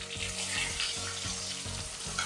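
Onion pieces and green chillies fry in hot oil for a potato fry, giving a steady, close sizzle with a few soft stirring knocks throughout, no talking.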